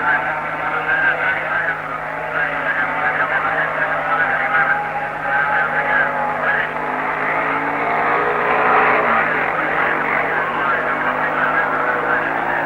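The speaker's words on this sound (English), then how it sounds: "Carruthers, riding a 499cc Norton, is riding at Longford for the first time" 499cc Norton motorcycle racing at the Longford circuit in 1960s Tasmania, a steady, distant engine drone with slight pitch wavering that holds at an even level throughout without a clear pass-by.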